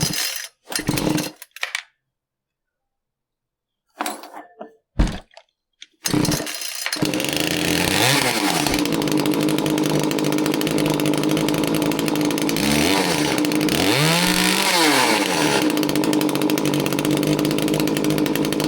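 A small two-stroke engine with a low-power fault runs on a workbench: a few sputtering pull attempts with gaps of silence, then it catches and drones loudly, its pitch rising and falling with repeated throttle blips.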